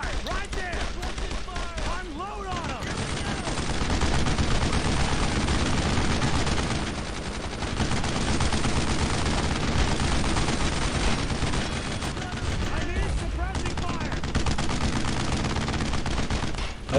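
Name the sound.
gunfire in video game Brothers in Arms: Road to Hill 30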